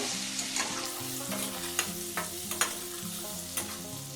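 Paneer pieces fry lightly in a pan with a steady, moderate sizzle, broken by occasional stirring scrapes and clinks. A low background hum runs underneath, and no one speaks.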